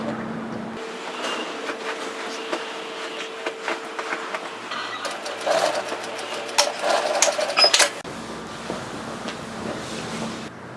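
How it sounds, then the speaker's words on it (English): An overlocker sewing machine stitches fabric for a double twisted turban headband, a steady mechanical whir running through most of the stretch with louder bursts of fast stitching in the middle, stopping near the end. "stitch together to secure them. Don't forget to tuck up those overlocking threads as you go"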